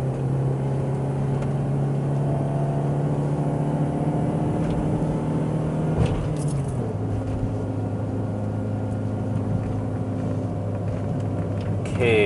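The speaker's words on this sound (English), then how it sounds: "I still maintain the practice of blipping the throttle every time I downshift" A manual car climbing an uphill stretch holds a loud, steady engine drone from inside the cabin, then the pitch shifts abruptly partway through as the driver downshifts and blips the throttle, settling into a lower hum.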